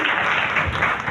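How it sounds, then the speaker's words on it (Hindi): Enthusiastic applause for a teacher during an online class session, a dense steady wash of clapping hands that fills the whole moment at even loudness with no voices over it. "जोरदार तालियां सर के लिए"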